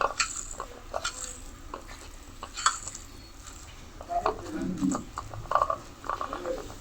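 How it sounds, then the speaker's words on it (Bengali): Fried hilsa fish tail being mashed into a Bengali bharta, with close, irregular scraping, squelching and soft clinks against a bowl. Quiet kitchen background and faint voices can be heard behind it. "মাছটা সুন্দর করে বেছে তারপরে এই যে ভর্তা মারতে হবে"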